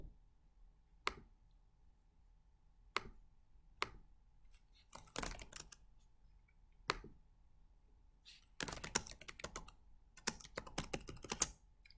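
Sparse single key presses followed by short bursts of typing on a computer keyboard, close and quiet in an otherwise still room.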